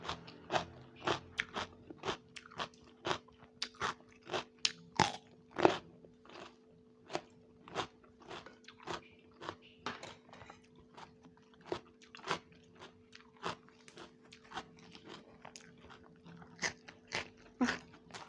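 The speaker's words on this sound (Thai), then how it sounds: "นี่เสียงงับ" Steady, rhythmic crunching bites, dozens of sharp crisp snaps close to the mic over a faint low hum.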